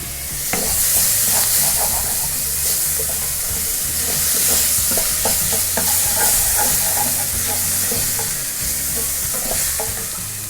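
Chopped tomatoes and green chilli sautéing in a pan for a hot dog recipe, a loud continuous close sizzle with scraping and stirring throughout.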